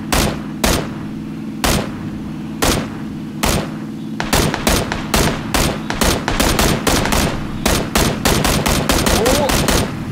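Loud, close gunfire in PlayerUnknown's Battlegrounds: a few spaced single shots first, then quick repeated bursts firing in a fast, steady rhythm to the end.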